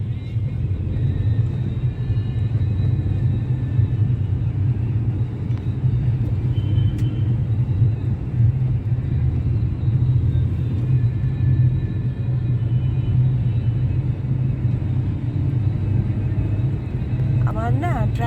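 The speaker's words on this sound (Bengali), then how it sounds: "টব কিনতে চলছি এখনো রাস্তায়, বাইপাস দিয়ে চলছি।" A car cruises along a bypass road, heard from inside as a steady, unbroken low engine and road rumble throughout.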